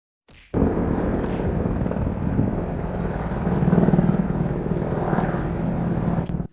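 Military helicopters fly overhead in Tapalpa, Jalisco, giving a loud, steady rotor and engine roar that swells slightly midway and holds without a break.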